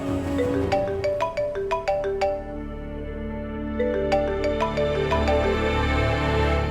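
A phone ringtone plays a repeating melodic tune of bright tones, ringing on steadily with short pauses and no one answering.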